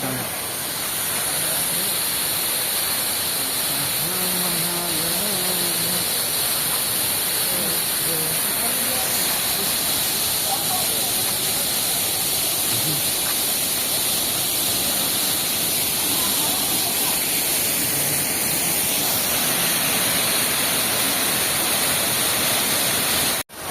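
Roaring monsoon-season waterfall at Jatadhari: a loud, unbroken broadband rush of falling water that fills the scene throughout, with people's voices faintly audible beneath it.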